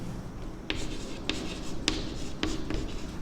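A pen writes on paper during a class 10 maths lesson on surface area and volume, producing soft close scratches with a few sharper taps as strokes land, and no speech over it.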